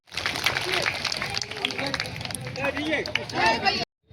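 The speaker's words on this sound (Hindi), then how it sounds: "जोरदार ताली बजा" Clapping from a large crowd at a political rally in Sindri over a housing issue, dense applause mixed with voices and babble before cutting off abruptly near the end.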